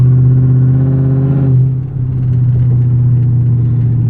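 A Dodge Charger ute police car with a 5.7 liter Hemi V8 drives along with a steady, loud low engine drone and rumble, briefly easing off and then pulling again, heard from inside the cabin.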